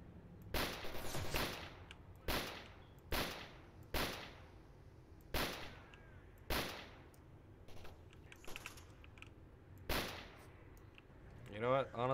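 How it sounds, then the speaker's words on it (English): Grenades and gunfire go off in the shooter game S.T.A.L.K.E.R. Anomaly as a string of about ten sharp, loud blasts spaced unevenly over several seconds. Each blast decays quickly into a quieter background. "Yep, that sounds about right for nades"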